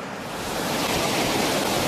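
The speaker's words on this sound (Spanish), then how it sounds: "Esta cascada tiene 25 metros de anchura y 60 de altura." A broad, steady roar of falling water from a waterfall 60 metres high and 25 metres wide on the Skógá river, fed by glacier meltwater, building slightly in strength and heard alone without voices.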